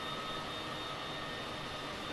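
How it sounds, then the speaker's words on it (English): Aircraft engines whir in Microsoft Flight Simulator 2020 during a flight over the K2 mountain region, a steady broadband jet roar with a faint high whine, unbroken and alone. "the engines whirring"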